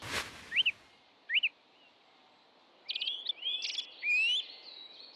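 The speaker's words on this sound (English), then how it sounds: "Song thrush at the top of the tree there." A song thrush sings from the top of a tree outdoors: short, clear whistled phrases spaced apart, then a quicker burst of repeated, varied notes, heard at moderate distance over quiet background, with a faint sharp click at the start.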